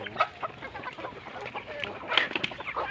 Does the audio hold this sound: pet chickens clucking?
yes